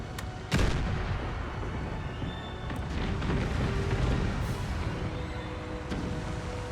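Cannon artillery firing in Empire Total War, a sharp loud boom followed by a steady din of distant gunfire and crackling shots from the battle line.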